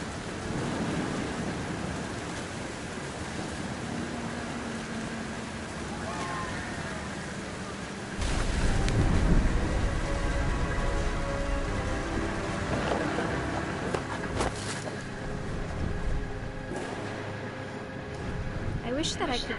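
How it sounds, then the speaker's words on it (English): A storm in the video game What Remains of Edith Finch, with rain hissing throughout and a loud, close thunder crash partway through that rumbles on under the downpour. "The thunder sounded much too close and full of angry power."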